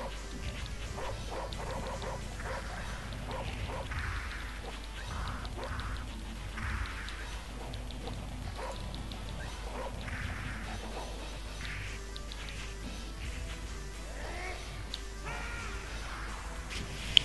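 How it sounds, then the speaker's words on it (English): Scattered dog barks ring out one after another in the Neo Geo game Mutation Nation, faint and tinny over a steady low game hum with no talking. "A lot more dogs, wow. There are dogs all over the place."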